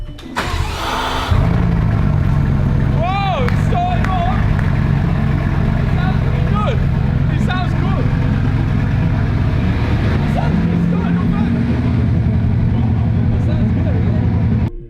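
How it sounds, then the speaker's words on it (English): A Bugatti Chiron's quad-turbo W16 starting inside a garage after crash repairs: a quick crank, then the engine catches and settles into a loud, deep, steady run with a few blips. "The engine fired instantly. The quad-turbo W16 roared back to life for the first time since the crash"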